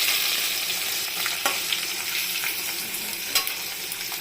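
Steady close-up sizzle of spices frying in a pan for raw banana kofta curry, with soft stirring scrapes breaking through now and then.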